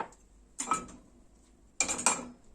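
A Spanish omelette (tortilla) slid from a plate back into an oiled pan, giving two brief clattering scrapes of crockery against metal about a second apart, close and fairly quiet with no talking.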